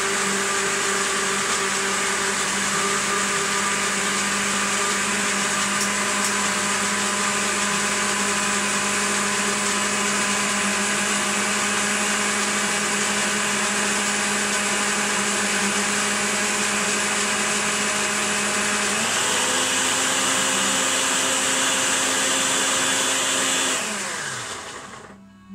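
A kitchen blender whizzes ingredients for garlic and basil focaccia, a loud steady motor whine running unbroken for about twenty seconds before the pitch shifts and the motor winds down to a stop.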